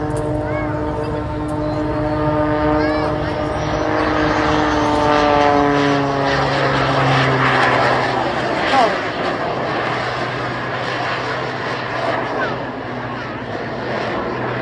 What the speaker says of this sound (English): there are two EMT jet turbine engines, additional to the piston engine that you can hear